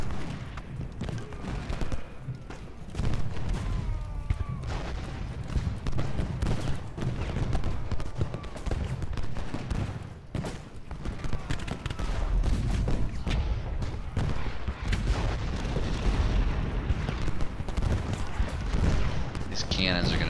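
Cannon and musket fire crash almost without pause through a Confederate assault battle in Ultimate General: Gettysburg, with heavy booms and rattling volleys under dense battlefield noise. A voice talks over the din.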